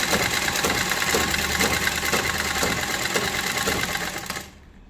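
A sewing machine stitches a blouse cross strip, its loud rapid mechanical whirring running steadily up close before stopping abruptly near the end.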